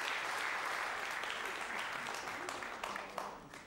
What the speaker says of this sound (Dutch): Geef een hartelijk applaus voor Lenny Gijs.